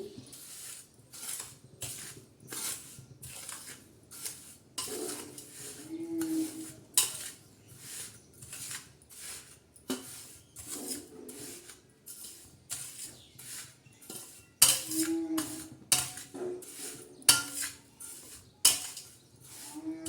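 A spoon stirs and scrapes a wheat flour modak mixture with sugar, sesame and coconut in a metal pot, giving repeated rhythmic clinking strokes, close and moderately loud, with no talk.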